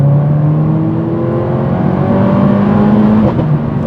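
A Mercedes-AMG A45 4MATIC+ accelerates from inside the cabin, its engine note climbing in a steady, loud drone with rising pitch before a brief dip near the end.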